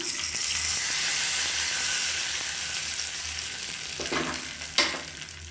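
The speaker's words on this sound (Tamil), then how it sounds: "எப்பயும் போல் கடுகு கருவேப்பிலை போட்டு தாளிச்சுக்கலாம்" Mustard seeds and curry leaves tempering in hot oil for an onion chutney, a continuous close crackling sizzle with a couple of sharper pops and a spoon tap near the end.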